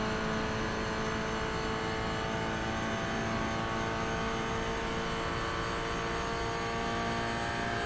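A Toyota GR86 Cup race car in iRacing, heard from the cockpit at Fuji Speedway, with a steady, dense engine drone that holds at high revs throughout and has no voices over it.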